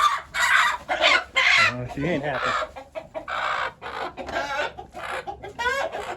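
Chickens cluck and squawk loudly up close, agitated bursts of calls, while a person speaks briefly among them.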